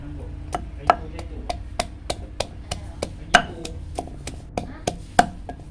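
Garlic is pounded for cooking catfish: a steady series of sharp, close knocks about every few tenths of a second, some strikes louder than others, over a faint low background hum with no talk.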